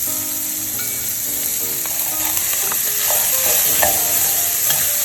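Chopped onions and garlic sizzle over medium-high heat in rendered chorizo fat in a restaurant kitchen, a steady close hiss with a few light clinks and scrapes of stirring, and no voices.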